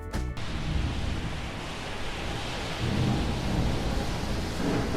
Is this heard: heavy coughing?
no